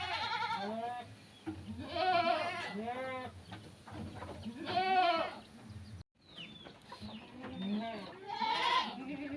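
Goats being fed cassava leaf silage bleat repeatedly and loudly at close range, several drawn-out calls overlapping in bursts with short pauses between them, with no talking over them.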